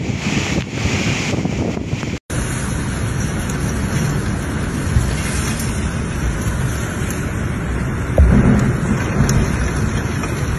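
During Super Typhoon Uwan in the eastern Philippines, heavy rain roars steadily under buffeting wind that batters the microphone, loud and continuous, with a brief cut near the start and a stronger gust toward the end.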